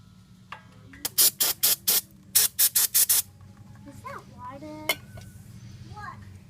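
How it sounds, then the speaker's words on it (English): Brake cleaner is sprayed onto the front brakes of a 1999 Jeep Wrangler in two quick series of short, sharp aerosol bursts, followed by a single burst, with children's voices faint in the background. "Then I'm going to hit it with some brake cleaner,"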